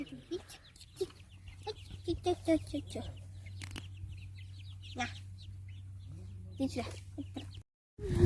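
Chickens clucking in short, scattered bursts around a yard, with a steady low hum underneath and occasional faint voices nearby.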